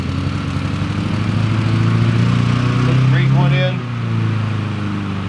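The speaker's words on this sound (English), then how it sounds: "Sorry about the lawnmower in the background." A lawn mower drones steadily in the background of a backyard garden while a person talks nearby planting basil; the engine hum stays continuous and fairly loud throughout, swelling briefly near the end.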